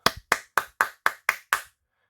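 Seven sharp hand claps land in an even, quick rhythm, close and crisp against silence, each one decaying fast before the next.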